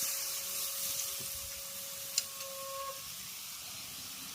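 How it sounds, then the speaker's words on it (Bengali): Tamarind pulp with sugar boils in a pan, making a steady, even hiss with a faint tonal whine and one brief click partway through, with no voices. "চিনিটা দিয়ে খুব ভালো করে তেঁতুলের পালটাকে আগে ফুটিয়ে নেব"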